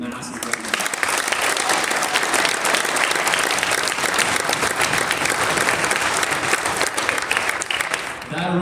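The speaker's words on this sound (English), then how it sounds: "So can we please give them a massive round of applause?" Sustained, loud round of applause from an audience at a school athletic awards ceremony, dense clapping continuing evenly for several seconds before tapering at the end.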